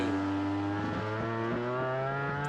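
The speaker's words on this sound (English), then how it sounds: "Just listen to that all-conquering Yamaha on board." A 2008 Yamaha MotoGP racing motorcycle at the Japanese Grand Prix is heard onboard, its engine holding a loud, steady, high-revving whine that rises slightly in pitch throughout.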